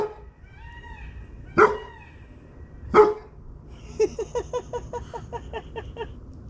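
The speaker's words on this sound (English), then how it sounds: "Yep, definitely barking at the lights." A pet dog barks outdoors at LED lights switching on and off, giving two loud separate barks followed by a quick run of shorter, higher yips, close to the listener.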